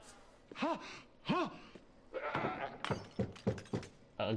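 A goat bleats twice inside Assassin's Creed Odyssey, two short wavering cries close together, followed by muffled game voices and ambient clatter.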